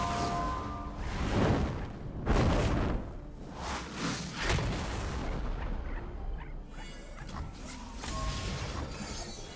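Rocket explosions from the Path of Champions card game, two Super Mega Death Rockets going off in a string of loud booming bursts and shattering crashes with whooshes, rising and falling over several seconds with no voices.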